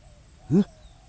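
A single short bird call rings out once, brief and fairly loud, over a quiet background hum.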